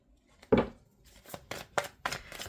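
Tarot cards being shuffled in a few quick, crisp bursts, close by and fairly quiet, with brief pauses between the riffles and no talking.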